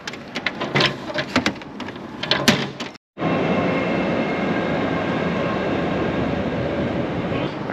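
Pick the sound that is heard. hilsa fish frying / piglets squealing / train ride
train ride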